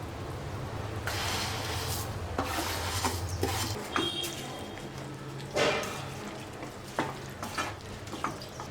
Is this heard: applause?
no